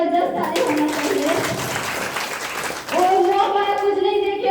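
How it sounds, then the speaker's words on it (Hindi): A crowd at a meeting clapping: a short burst of scattered applause rises between stretches of someone speaking, with the talk resuming loudly as the clapping fades. "उनके लिए जबरदस्त ताली होना चाहिए।"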